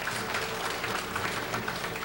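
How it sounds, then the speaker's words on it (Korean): Audience applause welcoming a guest columnist being introduced at an indoor community gathering, a dense steady clapping that fills the whole moment at moderate volume. "박수로 환영해 주세요"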